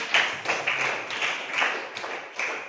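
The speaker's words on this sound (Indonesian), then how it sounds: "tepuk tangan sekali lagi untuk kita semua" Bursts of clapping from a group in a classroom, rising and falling in uneven waves, fairly close and lively.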